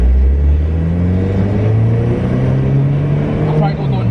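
A 480 horsepower turbocharged all-wheel-drive Honda rumbles loud and close with a steady low engine drone as it prepares to merge onto a freeway, the pitch holding fairly even throughout.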